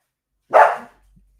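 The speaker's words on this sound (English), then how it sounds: "These dogs are gonna drive me nuts, man." A single loud, close dog bark, sharp and brief, heard on its own against silence, with a faint trailing sound after it.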